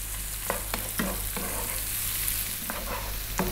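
Two cups of onions frying in a pan over above-medium heat, a steady close sizzle punctuated by repeated scraping stirs of a spoon, with no talk.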